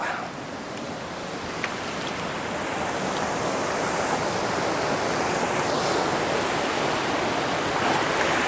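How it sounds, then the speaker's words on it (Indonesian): Natural river water rushes over large rocks on the slopes of Mount Salak, a dense, steady roar of flowing water close by with no voices. "Ini airnya masih alami sekali sahabat, masih penuh dengan bebatuan tinggi gede."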